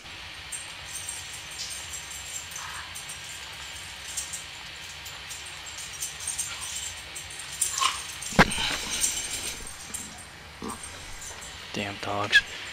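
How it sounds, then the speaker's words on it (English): Dogs barking and whimpering in the background, several short yips and barks clustering late, fairly faint under cockpit room hum and someone talking. "Damn dogs."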